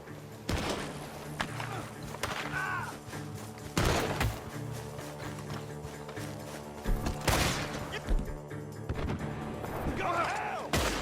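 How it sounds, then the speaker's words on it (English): Red Dead Redemption 2 gunfire near a barn, with heavy blasts and crashing impacts recurring over about eleven seconds amid dense game ambience, loud and close. "The gunshots are coming from that barn."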